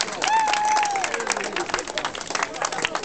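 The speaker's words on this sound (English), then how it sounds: "So we can have a round of applause to them." A crowd at an auction celebration for a royal wedding claps in a brief burst, with a raised voice cheering over it and some general hubbub.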